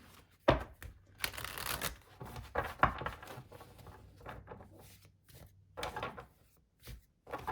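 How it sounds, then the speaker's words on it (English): Tarot cards are shuffled in several quick riffling bursts, with soft handling sounds and brief pauses between them, close and fairly quiet. "Give it one more good shuffle"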